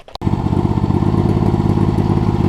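A John Deere LX279 lawn tractor engine runs steadily and loudly after a brief start, its low, even drone continuous throughout with no talking, from a machine that tends to shut off when hot.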